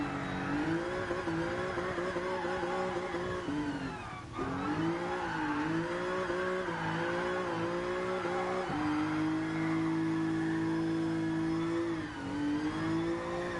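A car engine in GT Sport at Suzuka revving hard and steadily while drifting, with pitch rising and dipping as the throttle goes on and off, tire squeal blended in, loud and continuous with no talk.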